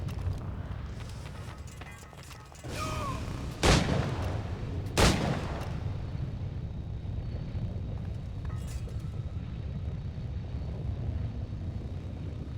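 Video game gunfire in Assassin's Creed Black Flag: two loud, sharp shots a little over a second apart, each with a short boom, over a steady rumbling game background with no talking.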